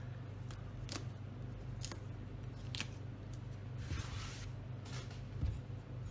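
The top being cut off a medium-sized eggplant for Greek moussaka, a few crisp cutting snaps spaced apart over a soft kitchen hiss, close and quiet with no voices.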